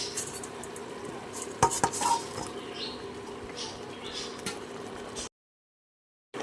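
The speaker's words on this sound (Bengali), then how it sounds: "ঝোল ফুটে উঠেছে এবারে দিয়ে দেবো ভেজে রাখা মাছগুলো" Fried pabda fish go into a boiling curry gravy, with a soft bubbling sizzle and a brief burst of pan and utensil clatter, then sudden silence.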